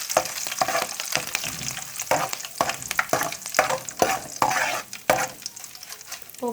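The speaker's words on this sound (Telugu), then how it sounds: "కరివేపాకు వేసుకుందాం." Curry leaves dropped into a hot oil tempering for a drumstick and tomato curry spit and crackle loudly, with a continuous close sizzle and many sharp pops and stirring clatters throughout.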